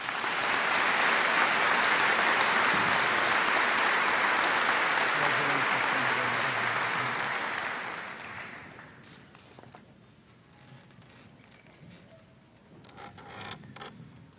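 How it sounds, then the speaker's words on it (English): Audience at a high school commencement applauding, dense sustained clapping for about eight seconds that fades out, followed by quieter room noise and scattered sounds. "join me in honoring him with a round of applause."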